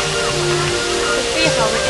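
A steady, loud rush of falling water fills the waterfall area at a tourist attraction near a wax museum, with children nearby and faint voices mixed into the constant roar.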